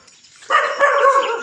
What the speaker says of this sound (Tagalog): ang ingay naman kasi ng aso